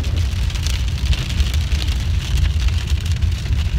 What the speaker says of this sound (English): The storm's upon us now.